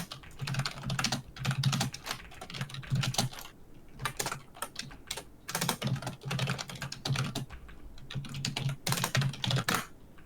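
Fast, steady typing on a computer keyboard during a Google search, a dense run of close clicks and clacks in bursts with short pauses, lasting about ten seconds with no talking.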